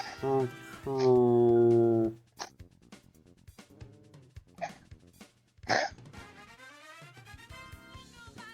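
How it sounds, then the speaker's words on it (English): An old dog makes choking, hacking noises in a string of short bursts, including a drawn-out whining wheeze early on, with a voice talking nearby. "Is their dog choking?"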